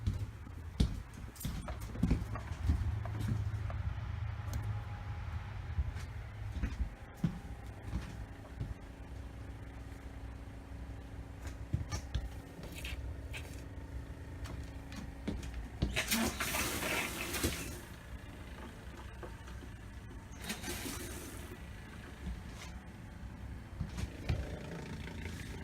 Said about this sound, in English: Turn the pump back on.